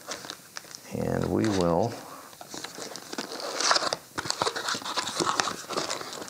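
A product shipping box for a cheap wireless microphone is cut open, giving close crinkling, scraping and tearing of cardboard and packaging, with someone speaking briefly early on and the crackle continuing afterward.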